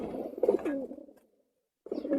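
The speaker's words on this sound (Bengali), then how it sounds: "এই যে দেখতে পাচ্ছেন কবুতরগুলা পানি খাওয়ার জন্য ছটফট করতেছে।" Racing pigeons coo in soft, throaty bursts close by, one call rolling for about a second, then a short pause before another begins.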